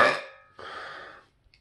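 A loud, single belch from a person trying for maximum volume while not fully hydrated, with a harsh opening burst, a brief dip and then a sustained rasping tail before it cuts off into silence.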